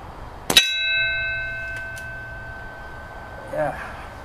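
An air rifle pellet strikes a metal bell target, giving one sharp clang that rings on with a clear sustained tone and fades slowly. A faint voice follows near the end.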